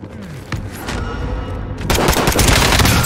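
Loud, close gunfire in a Call of Duty Warzone match on Rebirth Island, scattered shots at first, then a dense, rapid burst of automatic fire that swells and continues to the end.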